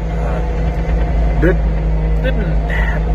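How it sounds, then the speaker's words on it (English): A John Deere 4045 diesel engine, recently fitted with new rods and mains, runs at a steady idle with a constant low hum, while someone talks over it. "That's a 4045 Deere engine"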